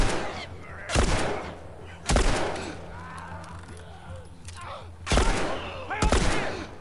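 Video game gunfire, a handful of loud sharp shots spaced a second or more apart, with a voice talking between them.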